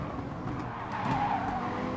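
Race car tires skidding sideways in Gran Turismo Sport as the car snaps loose over a curb, a steady engine roar carrying a brief rising tire squeal midway through.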